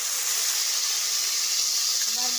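Carrot pieces fry in a pan with a loud, steady hissing sizzle, close and constant, with faint stirring clatter near the end.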